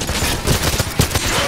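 Rapid gunfire from a James Bond video game, a burst of several close, loud shots in quick irregular succession amid game noise.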